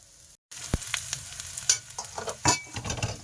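Onion and small fish fry in a pan, a close, crackling sizzle broken by sharp scraping stirs and clinks of a spatula, with a brief silent gap near the start.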